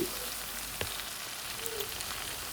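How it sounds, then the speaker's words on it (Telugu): Masala brinjal frying uncovered in a pan over a medium flame gives a steady, fairly quiet sizzling hiss, with one brief clink partway through and no voices. "ఇంకొక 10 నిమిషాలు మూత పెట్టకుండా మీడియం ఫ్లేమ్లో కుక్ చేయండి"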